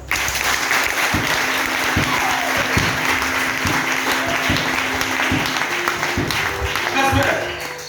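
A church congregation applauds loudly and steadily, with dense clapping filling the whole span and a voice speaking over it.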